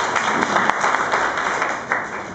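Audience applause at an association meeting in Yélimané, a dense steady wash of many hands clapping throughout, moderately loud, with a few louder claps standing out.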